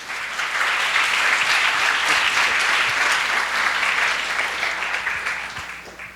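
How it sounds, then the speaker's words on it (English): A dense round of applause fills a hall at an address to young adults, with many hands clapping steadily for about six seconds before it thins out toward the end. "Can we get another round of applause, please?"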